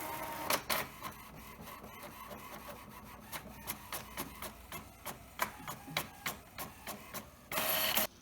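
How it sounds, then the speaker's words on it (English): A regular home printer runs a half-sheet sticky shipping label through, with a steady mechanical hum broken by rhythmic clicks and taps, ending in a brief louder whir of the feed. "I'm going to do it in my regular printer, and I'm going to use the regular half sheet old school sticky labels"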